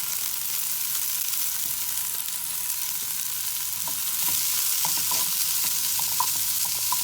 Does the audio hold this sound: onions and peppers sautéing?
yes